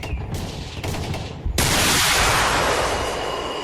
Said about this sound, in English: Use the laser gun.